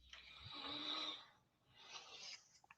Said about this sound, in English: You're hearing a woman snoring in a clip from a live stream advertised in this group